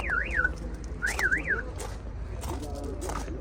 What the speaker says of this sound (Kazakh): сигнализациясы бар екен.